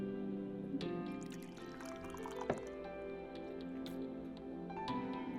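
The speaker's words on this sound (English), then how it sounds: "I was gently pouring tea from the kettle into Yamazaki-san's cup" Tea is poured from a kettle into a cup in a video game scene, a quiet trickling, dripping liquid sound over a soft musical background, with a few brief splashy accents.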